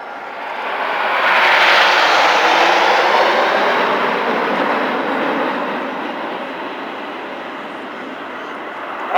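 RAF Red Arrows jets flying in tight display formation at an air festival, a broad roaring jet rush that swells to a peak then slowly fades as the aircraft pass overhead.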